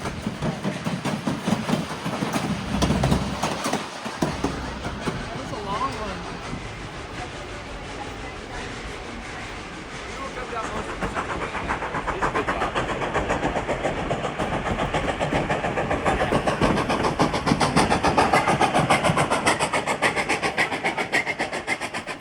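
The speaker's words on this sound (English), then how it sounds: "you can really hear the steam engine struggling up the hill" A heavy steam locomotive labors continuously uphill toward White Pass Summit, Alaska, under rumbling, rhythmic mechanical noise, growing louder and more strained toward the end, with rail clatter throughout.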